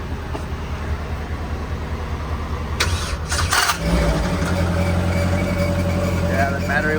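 A Polaris RZR Pro R fitted with an ibexx turbo kit cranks and fires up close by, the starter churn giving way to a steady, rumbling idle; a voice speaks briefly during the startup.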